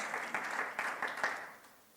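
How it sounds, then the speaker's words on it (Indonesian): A church congregation applauds during a Sunday worship service, a brief burst of many hands clapping together that fades out over about two seconds, with no talking over it. "Tepuk tangan bagi Tuhan Yesus."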